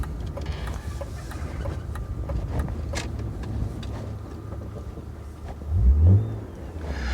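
A Techno Violet BMW E36 M3 with about 36,000 miles drives steadily, its engine a continuous low rumble from the cabin with a brief louder surge of revs near the end.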